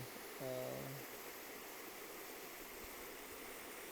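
A natural river flows with a soft, constant rushing wash, heard faintly and at an even level, with a brief tonal sound near the start.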